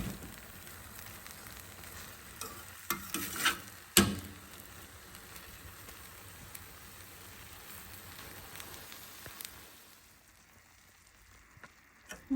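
Lentils and coriander seeds fry in a pan, giving a faint, steady sizzle broken by a few louder crackles and stirring clatters before quieting near the end.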